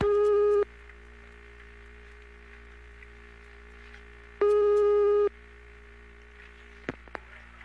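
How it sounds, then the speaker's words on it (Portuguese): Telephone ringback tone on a call line: two long repeating tone bursts separated by a few seconds of quieter line hum, with a faint click near the end. "Vamos lá, mais um número e tá chamando."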